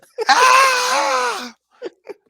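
An animated turtle character lets out a loud, drawn-out scream of pain, a single close wailing cry lasting over a second, followed by two short breathy gasps.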